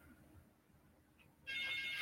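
A telephone ringtone suddenly starts and rings loudly and steadily over faint room noise, cutting in sharply partway through.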